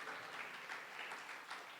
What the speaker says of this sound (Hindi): जोर से प्रभु के लिए ताली बजा दो,